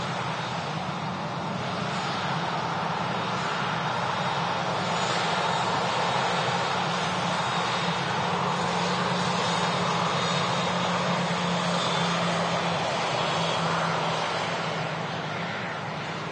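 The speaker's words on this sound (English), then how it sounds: "In the background there, we have a Ryanair on the taxi out as well." A Ryanair airliner taxiing out at Manchester Airport sends a steady, distant engine roar and whine that holds at an even level throughout.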